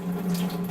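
Water runs steadily through the plates of a Tyent alkaline water ionizer, giving a constant close hum and rush that stays even throughout, with no talk.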